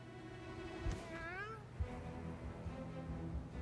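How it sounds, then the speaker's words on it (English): Cat meowing in the South Park: The Fractured But Whole video game, a single rising-falling meow with short clear tones over steady background game music, one brief call in the middle of the clip. "There's a cat over there."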